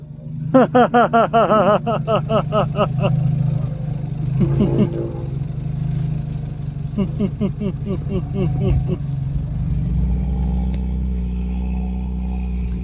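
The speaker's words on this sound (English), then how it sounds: "we're going to idle off in 1st gear. This is how fast it goes." A Jeep 4-cylinder with 4.88 gears idles off in first gear, producing a low, steady engine drone that runs underneath people talking.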